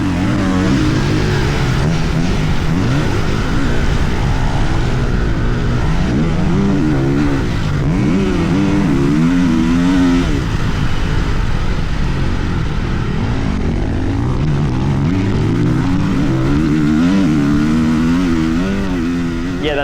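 A 2026 Ducati Desmo 450 MX motocross bike being ridden, its engine loud and close throughout, with rising and falling revs and repeated throttle sweeps over a steady rumble.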